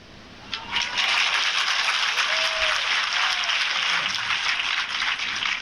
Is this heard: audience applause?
yes